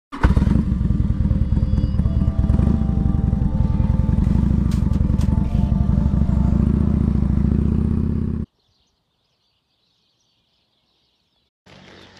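Harley-Davidson Road King motorcycle ridden along a trail, engine rumbling loud and continuous for about eight seconds before cutting to silence, with a faint return of sound at the very end.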